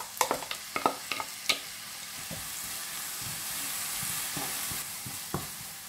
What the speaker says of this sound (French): Je vais hacher finement l'oignon et je vais le faire revenir dans l'huile.